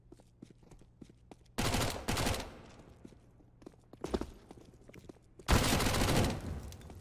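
MAC-10 submachine gun sprays in a Counter-Strike match, two short bursts of rapid automatic fire between quieter game footsteps and clicks.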